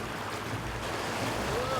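River water rushing around a raft floating down a river in Chugach National Forest, Alaska, a steady close wash of flowing water with wind noise across the microphone.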